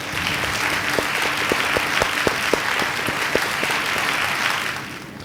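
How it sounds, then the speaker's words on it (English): A crowd at a high school graduation applauds steadily with dense clapping and a few sharper claps standing out, fading slightly at the end. "Please give them a round of applause."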